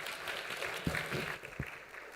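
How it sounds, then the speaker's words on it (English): An audience at a Thai bioinformatics research conference opening applauds, a faint, distant patter of many hands clapping steadily, with a couple of sharper thumps. "Please give a big round of applause for him."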